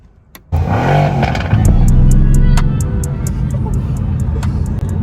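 A brand-new car's engine starts and revs as driving begins, a sudden loud rumble that swells then settles into a steady drone, close and inside the cabin.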